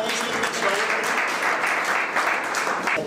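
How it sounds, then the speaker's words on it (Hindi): Sustained crowd applause at a college program honoring a guest with a garland, a steady wash of many hands clapping, moderately loud and unbroken. "जोरदार ताली से।"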